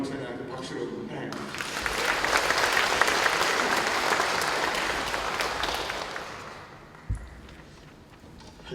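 A church congregation applauds, a dense wash of clapping that swells after a second, holds steady for several seconds and then fades out, ending with a single louder thump.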